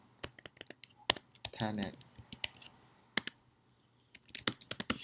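Computer keyboard typing commands on a Juniper device setup, irregular bursts of close key clicks and taps across the whole span, with a brief spoken word partway through.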